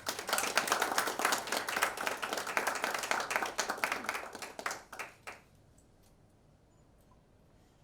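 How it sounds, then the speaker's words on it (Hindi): An audience at a film poster launch event applauds loudly and steadily for about five seconds, then the clapping quickly dies away into quiet room tone. "Everyone, please put your hands together"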